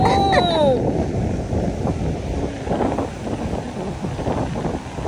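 Strong wind at the beach buffets the microphone in a low, rumbling roar, with a brief whistle-like tone at the start and a voice faintly underneath.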